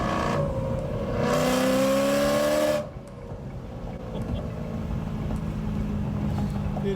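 A Ferrari 458 Italia V8 supercar passes close by with a loud engine note that climbs in pitch for about two and a half seconds, then cuts away to steady road and cabin noise.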